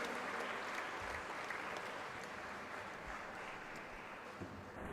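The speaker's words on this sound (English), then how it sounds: "Please give a huge round of applause for consecutive 27th edition." An audience applauds at a lecture event, the 27th edition of an endowment lecture series. The clapping is steady, dense and sustained throughout, with no voices over it.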